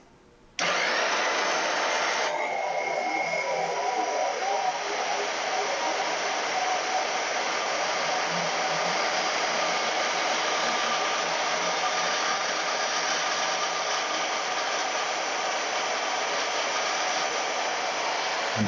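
A small power tool whines on steadily and close for a long stretch while cutting a slot in Fordson F tractor valve keepers, starting abruptly and then holding a constant high-pitched drone.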